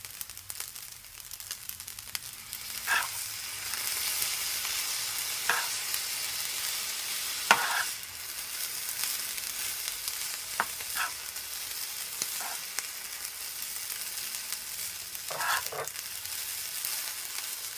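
Shrimp fried rice sizzles steadily in a hot pan on medium heat with soy sauce, a continuous frying hiss broken by occasional scraping stir strokes, no voices.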